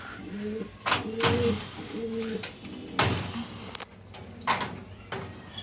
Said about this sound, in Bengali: আর এটা লাল পায়রা আছে, সুরমিয়া পায়রা